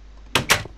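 A door placed in the block-building video game Minecraft gives two quick, sharp clicks in close succession, loud and close with no talk.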